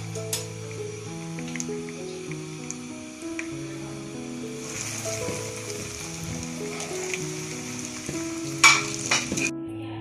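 Potato-stuffed bread rolls deep frying in oil give a soft, steady sizzle with faint bubbling and occasional stirring clinks, moderately quiet and close, with a brighter burst of spatter near the end and no speech.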